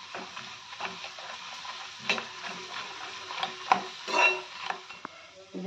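Papad frying in a pan of hot oil in a home kitchen, a steady close sizzle broken by scraping and stirring clinks as the pieces are turned.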